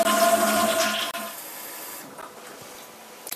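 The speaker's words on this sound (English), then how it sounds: "Once we flush the toilet, it should only fill up to about an inch below the top" A household toilet with a Fluidmaster fill valve rushes loudly as it flushes, then drops to a quieter steady hiss of water refilling the tank.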